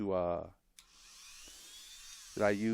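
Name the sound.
Dremel rotary tool running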